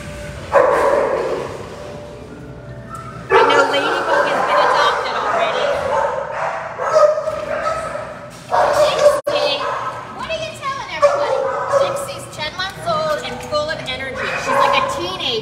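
Several dogs at an animal shelter bark and yip loudly in repeated bursts, filling the space while someone talks over the noise.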